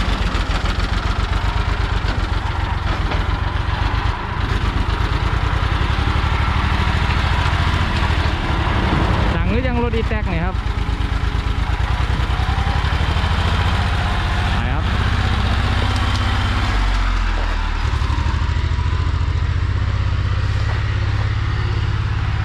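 A six-wheel sugarcane truck's engine idles steadily with a low, continuous rumble, while someone talks over it throughout.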